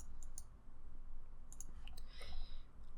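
Computer mouse clicking while working in Photoshop, a few quiet, sharp clicks spread over a steady low background hum, with no one talking.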